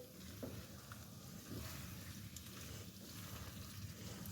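Okra coated in egg is stirred in a frying pan, a faint steady sizzle with soft scraping of a spoon running throughout.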